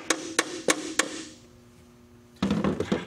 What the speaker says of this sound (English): get your hammer in here